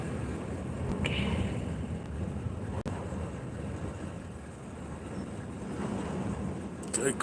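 Strong wind whipping and buffeting the microphone outdoors, a steady loud rushing roar throughout with a brief gust click.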